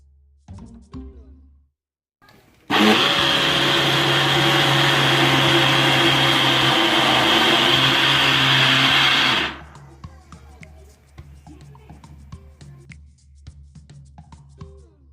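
A countertop blender whirs loudly for about seven seconds as it purées a vegetable soup, preceded by brief quiet kitchen clatter and followed by light clinking.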